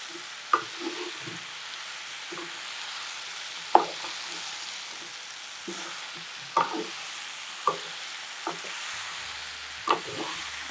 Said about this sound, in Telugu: అవి వేగిన తర్వాత ఇవి కూడా కొంచెం వేగాలి కాబట్టి వేసేస్తున్నాను గుమ్మడికాయ ముక్కలు కూడా వేగితే